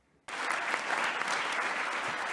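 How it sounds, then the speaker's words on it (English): A conference hall audience at a global skin disease health meeting bursts into sustained applause after near silence, the dense clapping continuing evenly to the end. "all the presenters deserve a round of applause"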